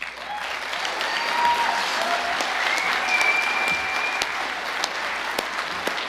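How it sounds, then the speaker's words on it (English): A room full of people applauds at an honorary life membership ceremony, dense steady clapping with scattered sharper claps close by, holding level for several seconds. "give him a big round of applause."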